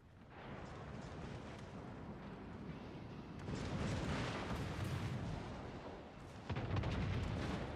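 Naval gunfire in World of Warships Legends, with a deep rumbling barrage of heavy booms that swells louder partway through and surges again near the end, dense and continuous with no clear gaps.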